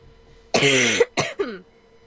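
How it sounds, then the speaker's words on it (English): One person gives a harsh, raspy cough followed by two shorter coughs, close and clear against a quiet background. "My glorious cough."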